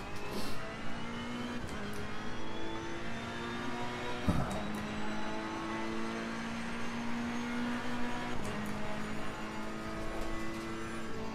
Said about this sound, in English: It's got a lovely sound to this engine, it really has.